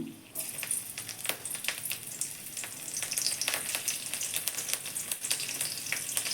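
Whole spices, shahi jeera, cinnamon, cloves, cardamom and green chilli frying in hot oil, a loud continuous crackling sizzle with frequent sharp pops running throughout.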